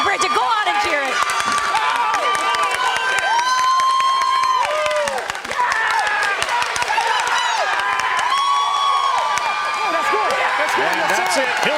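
A crowd at a Little League baseball game cheers and shouts continuously, a dense wash of excited voices and whistles with children yelling, loud and sustained throughout with only a brief dip midway.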